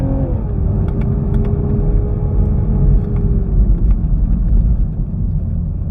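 Toyota GR Supra Jarama Racetrack Edition engine heard from inside on track, a loud, steady drone whose pitch shifts as the paddle-shift gearbox changes gear, with no talking.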